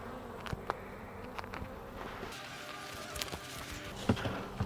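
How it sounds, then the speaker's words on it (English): Honeybees buzz in a continuous close hum at an open hive, with occasional louder passes near the ear and a few soft knocks and rustles beneath. "So yeah, see, we got good population of bees up here."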